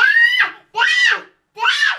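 A child screams in three sharp, loud, high-pitched bursts separated by short silences.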